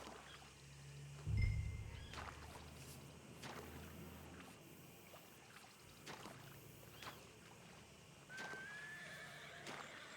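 Horses whinny from a distance, with a short low snort or thud near the start and soft hoof sounds over quiet outdoor background, faint overall.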